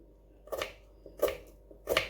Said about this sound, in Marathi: ओबडधोबड मिळ मुळा चिरून घेते